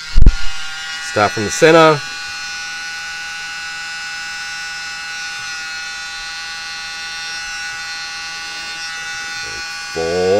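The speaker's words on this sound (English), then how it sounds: "Grab my little mini blower." A small handheld mini blower runs with a steady, loud electric whir for about eight seconds while styling hair lacing, starting after a few short spoken words and cutting off near the end.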